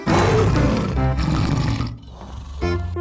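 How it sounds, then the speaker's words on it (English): A tiger gives a deep, loud roar, a long rumbling growl that swells, breaks off briefly, then resumes with a shorter snarl at the end. "T for tiger."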